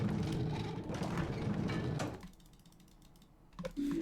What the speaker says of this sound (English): So I'm gonna go into this elevator right here.